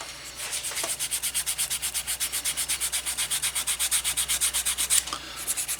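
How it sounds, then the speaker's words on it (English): A leather knife sheath hand sanded with fine sandpaper, a fast even rhythm of raspy back-and-forth strokes, close and steady throughout, with no talk. "if I hand sand that a little bit, that'll start looking a lot nicer here"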